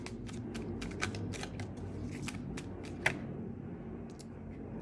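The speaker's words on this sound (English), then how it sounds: "when I stopped shuffling initially before I cut the cards" Tarot cards are shuffled by hand in a steady stream of riffling snaps and soft slaps, close and crisp, with a slightly louder snap near the end and faint room noise underneath.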